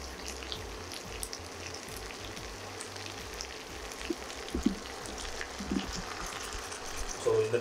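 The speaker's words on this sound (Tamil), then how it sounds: "நான் வந்து இந்த இந்த ஒரு கப் அளவுக்கு ஊற்றுறேன்." A cup of water hits a pan of frying chicken for Pallipalayam chicken, producing a steady, moderately loud sizzle and crackle with bubbling pops that grow busier toward the end.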